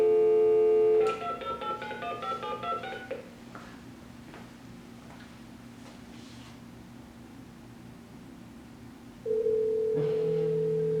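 A mobile phone sitting inside two nested Faraday cages is called: a short run of dialing tones, a quiet pause with faint background hum, then a steady ringing tone near the end.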